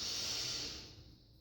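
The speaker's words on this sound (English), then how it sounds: "Powerfully exhale, pulling the navel back to the spine." A powerful, forceful exhale through the nose during a Kundalini yoga breathing exercise, a single broad airy rush that is loud at first and then fades out over about a second, with no talking.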